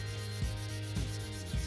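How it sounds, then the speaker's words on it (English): Close sandpaper strokes across the plastic body of a Hasegawa Lamborghini Miura SV model car, a continuous scratchy rub with three slightly louder pulses marking changes of stroke. "And then I sand across"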